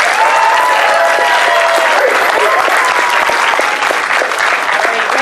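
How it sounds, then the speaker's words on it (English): A crowd at a furry convention talent show bursts into loud, sustained applause with cheers and whoops mixed into the dense clapping, continuing at full strength to the end. "round of applause for her."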